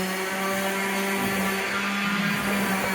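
A vacuum cleaner runs steadily on an engineered hickory wood floor being prepared for refinishing, a loud continuous motor whine with a strong low hum and hiss throughout, close by and without speech.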